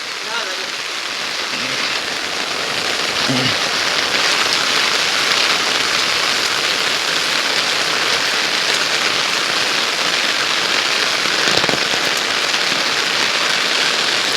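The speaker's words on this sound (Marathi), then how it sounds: "पाऊस पडतोय मस्तपैकी" Heavy rain pours steadily over a village, a dense unbroken hiss that stays loud and even throughout, with a faint voice briefly under it.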